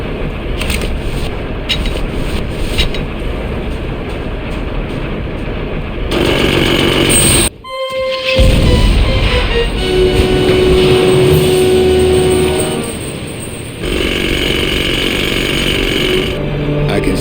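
A heavy powered chisel scoop machine in Grim Fandango runs loud and steady with a harsh engine-like drone, cutting out briefly partway through before resuming.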